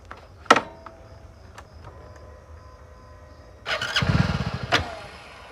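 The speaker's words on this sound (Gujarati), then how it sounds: "આ ગાડી ઉપડતો નહીં એક તો." A motorbike's starter is tried and the engine catches only briefly: a sharp click, a quiet pause, then a short rough sputtering burst of cranking that dies away, close and fairly loud.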